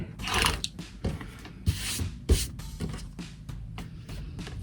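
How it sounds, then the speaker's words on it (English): A fabric quilt block is trimmed close up, with a series of scraping, rubbing strokes and a couple of firmer knocks against the work surface. "So I'm just gonna trim just a little bit nicer of a line there."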